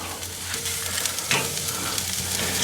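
Chicken wings sizzle steadily on a Kamado Joe grill while being flipped, a continuous close crackle with a brief scrape and hiss as the pieces turn.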